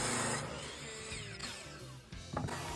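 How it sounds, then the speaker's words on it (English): A power saw whines loudly as a miter saw cuts padauk and maple boards to length, the pitch shifting through a couple of passes with brief drops between cuts. "Now we're just going to come down to size on the miter saw"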